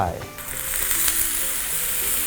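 Water is poured into a pan of softened, translucent onions during preparation of curry udon, setting off a loud, steady sizzle and frying hiss that carries on throughout.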